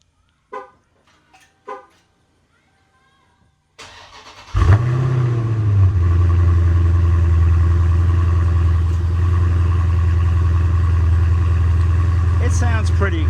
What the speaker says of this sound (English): here's what it's going to sound like in cold start mode